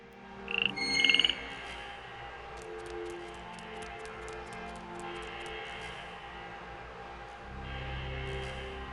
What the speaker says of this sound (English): I'm going to put the frog in this slot here. And now poke him with the needle.